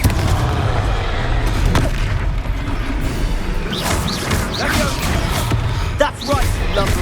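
Blasting-spell explosions in Hogwarts Legacy, several booming impacts with crashing debris over a rumbling battle bed, interspersed with sharp magical zaps and a voice calling out.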